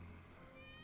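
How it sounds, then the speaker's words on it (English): A cat meows in the Final Fantasy VII Remake game, one of Wedge's three cats, a short, faint cry over a steady tonal game-music background, with no talk over it. "That's Wedge's cat."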